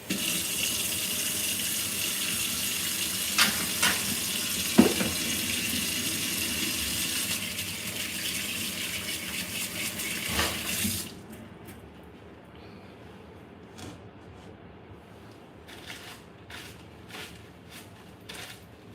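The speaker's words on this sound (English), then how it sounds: "Let me wash my hands." Hands being washed under a running tap at a sink, a steady close water rush lasting about eleven seconds before it stops, leaving faint drips and small knocks at low level.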